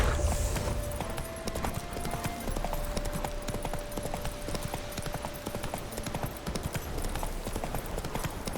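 Hooves of a galloping horse in The Witcher 3: Wild Hunt, Hearts of Stone, pound in a quick, continuous rhythm over steady game ambience.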